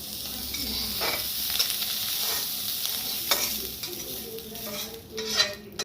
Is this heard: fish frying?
yes